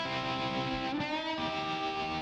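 Electric guitar solo run through a tremolo effect, its sustained, distorted notes pulsing in volume and bending partway through; played alone, with no talking.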